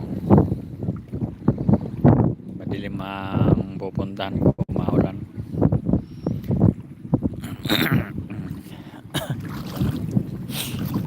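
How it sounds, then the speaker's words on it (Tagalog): A small motorboat's engine rumbles beneath steady wind noise on Laguna de Bay while a person talks over it, with occasional bumps and splashes. "ito yung sasakyan kong bangka maliit lang"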